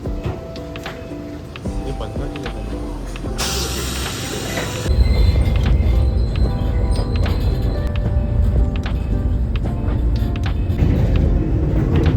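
A train moves through Kamakura railway station in Japan with a continuous loud rumble, wheel clatter and squealing rail noise, growing louder partway through, while people speak faintly in the background.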